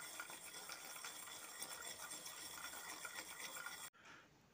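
Cashew nut fry is shaken and tossed in a pan, a quiet continuous rattling scrape of nuts against metal that stops abruptly, with no speech.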